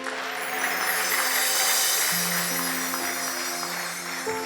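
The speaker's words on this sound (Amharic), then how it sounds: "ለእግዚአብሔር አጨብጭቡ ቅዱሳን" A church congregation claps together in a steady, sustained wash of applause, moderately loud, with faint tonal musical notes underneath.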